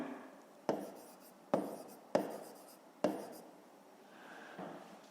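A pen writing on paper, heard as four sharp scratchy strokes with short pauses between them and a softer rub near the end, close and quiet with no talking.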